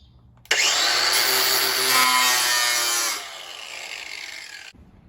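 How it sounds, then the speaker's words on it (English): A battery-powered angle grinder starts abruptly and runs loud and high-pitched, its whine shifting partway through as it settles to a lower level, then cuts off sharply near the end. "You're gonna want hearing protection if you're using an angle grinder."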